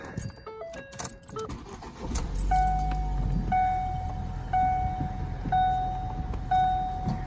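Keys jangle, then a 2012-2018 Ford Focus engine cranks and rumbles to life, idling steadily while a regular electronic lights-on chime beeps about once a second.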